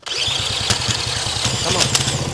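The engine of a 1970 Honda CL100 motorcycle, rescued from being seized, starts up right away into a close, steady, throbbing mid-pitched rumble with a few sharp clicks and pops on top.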